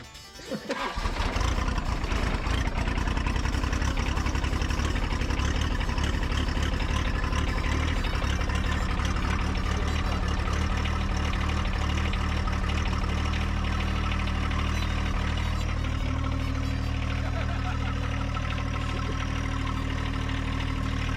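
A John Deere diesel tractor engine idles loud and close, a steady rumbling drone that holds evenly throughout, with a brief voice or two in the background.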